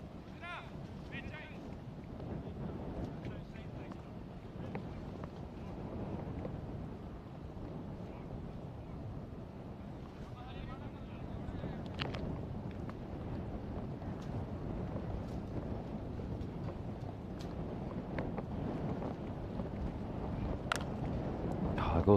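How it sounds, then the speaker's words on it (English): Strong wind buffets the microphone at an outdoor cricket ground during a dusty European T10 match, a steady broadband roar that runs throughout and swells toward the end. "Just emphasizes how windy it is right now."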